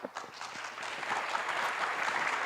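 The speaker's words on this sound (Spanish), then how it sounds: "Un aplauso para esta primera ronda de candidatos" A crowd at a panel of Colombian presidential precandidates breaks into steady applause that quickly swells and holds, dense clapping filling the whole stretch.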